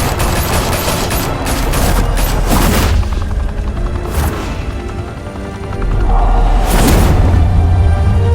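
A loud, sustained gunfire volley in the Batman Telltale game, dense overlapping shots swelling and easing over several seconds with heavy low booms.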